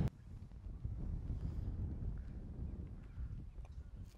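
Wind buffets the microphone outdoors on a golf course in Hawaii, a low, continuous rumble with gusty fluctuations and no one speaking.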